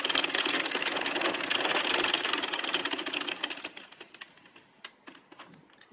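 A knitting machine carriage running across a row of white yarn, a dense rapid mechanical clatter that runs steadily and then thins into scattered clicks and taps as the pass ends.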